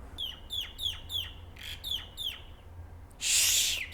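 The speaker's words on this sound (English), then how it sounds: "Shh! Quiet, bird. Fly away." A nearby bird gives a run of sharp, repeated descending calls in quick bursts, followed by a louder rustling flurry near the end, over a low steady background hum.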